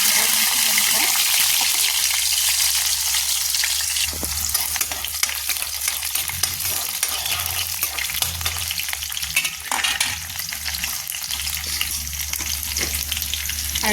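Panch phoron, garlic and a chili crackle and sizzle in hot oil, a loud continuous fry with stirring scrapes and occasional sharper pops throughout.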